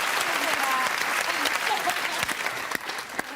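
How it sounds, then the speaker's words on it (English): A studio audience on a BBC game show applauds loudly and continuously, a dense wash of many hands clapping throughout, with a few sharper claps standing out near the end. "Round of applause."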